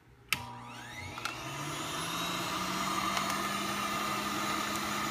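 A hand dryer switches on with a click and settles into a steady, moderately loud whirring hum that continues unbroken.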